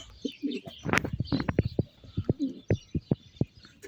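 Pigeons in a pigeon nest cooing at close range, a run of soft, throaty coos and short pulses repeating over a few seconds.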